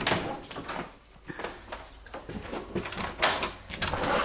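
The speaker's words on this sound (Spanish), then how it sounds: "Ay, mi papi chulo quiere que le abra aquí la puerta." A household door being opened, a run of soft knocks, clicks and rustles of the latch and panel close by, with brief louder handling bursts toward the end and no talk over it.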